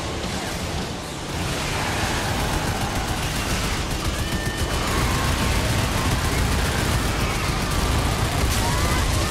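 Missiles firing in the Twisted Metal vehicular combat video game, a dense, continuous barrage of launches and explosive blasts that stays loud throughout, with a brief dip near the start.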